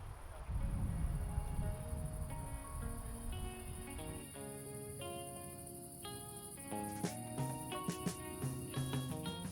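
Crickets chirp faintly in Idaho sagebrush before dawn, a thin steady trill sitting under soft tonal sounds that rise and layer toward the end.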